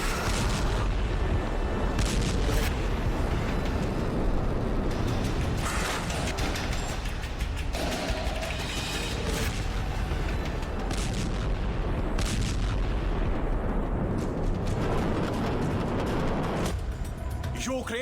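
Explosions from a Russian hypersonic Kinzhal missile attack on Ukrainian cities, including Kyiv: dense, loud booming and blasts fill the whole stretch, with voices mixed in beneath the rumble.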